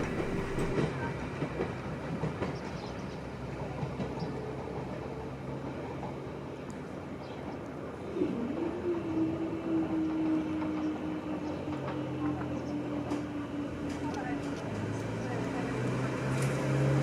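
A Class 195 three-car passenger train running on the line toward Corkicle, heard as a steady rumbling rail roar with a rising tonal whine from the traction as it pulls away, continuous throughout.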